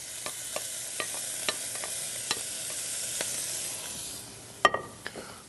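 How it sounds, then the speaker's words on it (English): Pre-cooked Italian sausage sizzling in a pan with caramelized onions, a steady frying hiss broken by regular light taps of a utensil and a louder clatter near the end. "we're going to reintroduce our Italian sausage that's already pre-cooked. And we're just going to add it right to the pan."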